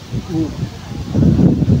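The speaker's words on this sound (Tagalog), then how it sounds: "talagang kinig ninyo yung pagaspas ng hangin" Wind gusts rustle through tree leaves in a marshland in Lopez, Quezon Province, Philippines, a steady, breathy wash that swells louder toward the end, with faint voice-like sounds mixed in.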